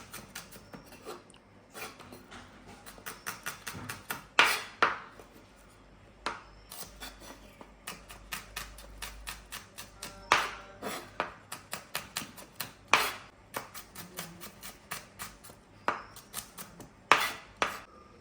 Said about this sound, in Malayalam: ഉള്ളി നമ്മൾ അരിഞ്ഞെടുക്കും